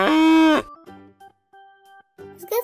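A single strong, steady cow moo opens the moment in a children's cartoon animal-guessing game. Quiet, sparse musical notes follow after it.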